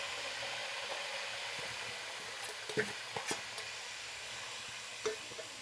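Chopped onion dropped into plenty of hot oil with a pinch of asafoetida for Gujarati undhiyu, giving a steady, fairly faint sizzle with a few soft clicks and crackles from the pan.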